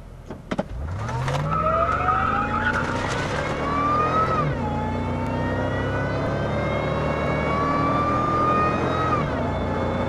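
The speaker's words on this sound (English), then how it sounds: "The alternator is kind of loud." A pickup truck with an electrical short starts up, and its engine settles into a loud drone. A high alternator whine rises and falls in pitch with the revs and stays prominent throughout.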